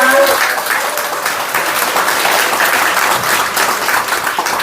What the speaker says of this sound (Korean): 더 큰 박수로 환영해 주시기 바랍니다.